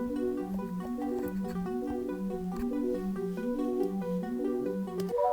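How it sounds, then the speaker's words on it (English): Looping hip-hop beat made in Logic Pro, a repeating melodic synth or sampled phrase over a steady rhythm, playing evenly throughout with no voices. "I'm going to start off by just breaking down kind of like the main loop of the first beat I made"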